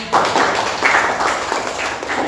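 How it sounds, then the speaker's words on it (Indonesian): A classroom of students claps for a presenting group, a loud, dense burst of hand claps that continues steadily with little talk. "Beri tepuk tangan untuk kelompok 1."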